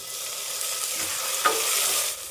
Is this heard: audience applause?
no